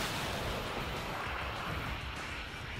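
Flute guided missiles launching and rushing through the air in the Crossout vehicle combat game, heard as a steady, loud, roaring whoosh that fills the whole moment without a break.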